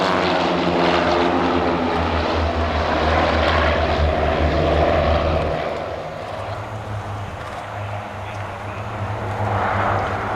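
Royal Norwegian Air Force propeller aircraft in arrow formation drone loudly overhead with a deep, throbbing engine hum that shifts in pitch as the planes pass, easing slightly then swelling again.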